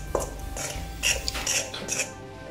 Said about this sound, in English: And then you stir.